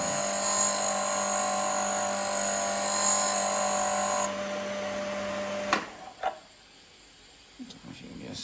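A Serdi 3 valve seat cutting machine whines steadily with a high mechanical tone for several seconds, then stops, leaving a few clunks and handling knocks in the quiet.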